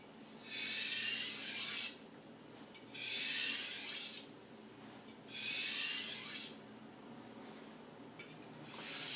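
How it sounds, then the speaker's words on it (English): A Takeda gyuto knife edge is drawn firmly through cork during sharpening. Three separate strokes of bright, hissy scraping, each about a second and a half long, are separated by short quiet gaps, with a brief fourth touch at the end. "run it through a little bit more aggressively through the cork."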